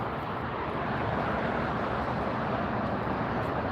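Norse Airlines Boeing 787-9 Dreamliner arriving at LAX, a broad continuous jet roar heard from nearby on the ground, steady and loud throughout with no talk.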